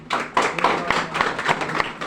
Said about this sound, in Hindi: सर तालियां बजनी चाहिए ना सर प्लीज।